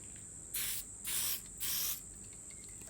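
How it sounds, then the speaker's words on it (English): Contact adhesive hisses from a spray can in three short, close bursts, each about a third of a second long with brief pauses between, over a faint steady background whine and no talking. "with the contact you need to spray on both surfaces"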